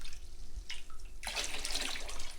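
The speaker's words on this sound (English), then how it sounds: "Now I will put some water in this orchid." Water streams from a container into a potted vanda orchid, a soft splashing pour that swells after a quiet start and continues steadily, close and with no talk.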